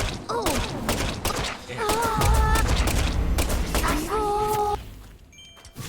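Rapid bursts of gunfire from the video game Deadly Premonition 2, dense clustered shots with thuds and booms layered over game music tones, loud and continuous across the clip.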